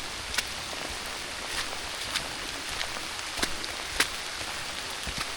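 Rain falling in the woods along the Cahaba River Riverwalk in Alabama, a soft continuous patter on leaves and ground with scattered sharper drips close by, gentle and steady.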